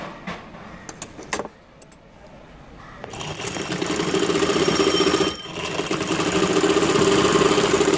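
A sewing machine stitches a boy's baby outfit. After a few faint clicks and handling sounds it starts up and runs in a loud, continuous motor hum for several seconds, with one short pause partway through.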